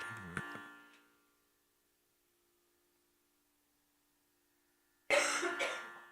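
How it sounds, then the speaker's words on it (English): A single short cough near the start fades into near silence, then a breathy rush of sound returns at the end. "Some of you will cough as you release, that's perfectly normal."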